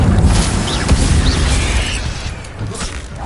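In Hogwarts Legacy, an Incendio fire spell bursts with a loud, dense whooshing roar and booming rumble that fills the moment, with crackling detail on top.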